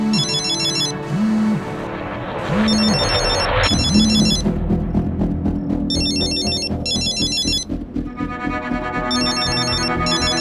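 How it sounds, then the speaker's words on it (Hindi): A mobile phone ringtone plays loudly and close up in a Hindi horror show, a repeating electronic melody with tonal bursts that start and stop in a regular pattern for about ten seconds, with no talking. "ये किसका मोबाइल बजा?"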